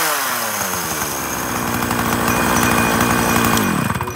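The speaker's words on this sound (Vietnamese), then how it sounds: "Ok, test nổ tiếng máy con L1 cho bác." A used Japanese chainsaw engine, a secondhand L-series saw of a brand such as Shindaiwa, Echo or Ryobi, runs loud and close throughout. It holds a steady buzzing idle and then rises and settles with throttle changes near the end.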